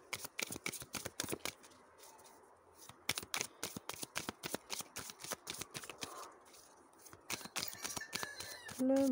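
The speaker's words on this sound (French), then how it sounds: "je prendrai avec les cartes divinatoires du karma" Divination cards being shuffled by hand, a long run of quick crisp riffling flicks in steady bursts, close and fairly loud with no talk over it.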